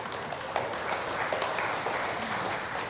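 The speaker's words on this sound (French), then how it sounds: "Applaudissez-le." A church congregation at a Sunday Mass claps after a homily exchange, a moderate, steady patter of many hands, fairly soft and unbroken for a few seconds.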